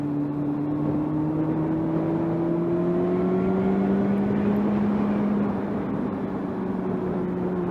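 A high-revving Honda engine pulls hard through the close, short ratios of its six-speed gearbox, a steady loud drone with rising pitch. It stays continuous and near for the whole stretch, with no voices.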